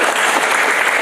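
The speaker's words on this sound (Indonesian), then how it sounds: "Amin, tepuk tangan." A short burst of dense clapping from a church congregation, steady and close.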